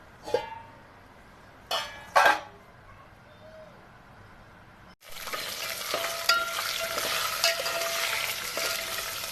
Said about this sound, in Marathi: आता मी टाकते गोळा काजू आणि बदाम आता मी घेते हे हलवून